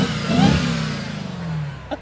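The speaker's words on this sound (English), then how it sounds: "We've been revving these engines for a decade pretty much" A 2026 Dodge Durango Hellcat's supercharged engine revs hard and loud up close, peaking early then holding a droning, slowly falling note before a brief final blip.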